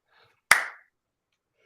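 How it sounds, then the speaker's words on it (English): A single sharp hand clap rings out in near silence, its burst decaying over about a quarter second, followed by the start of a second clap at the very end, spaced slowly apart. "every time I do the slow clap start"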